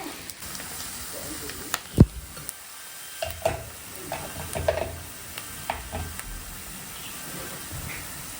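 Onions and garlic fry in a pan, with a steady sizzle and crackle broken by sharp clanks and scrapes from stirring, and a voice faintly in the background.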